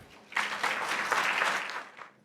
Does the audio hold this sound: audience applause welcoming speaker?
yes